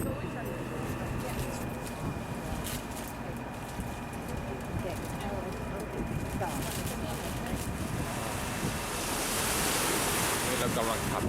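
Steady roar of strong surf in Dublin Bay, heard from a cruise boat, with waves washing in continuously, swelling louder toward the end, and a voice faintly audible under the noise.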